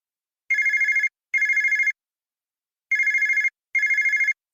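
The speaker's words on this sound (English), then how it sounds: "Just then the telephone rang." A telephone bell rings in two double bursts, each a rapid trilling ring, clear and close with silence between the pairs and nothing else heard.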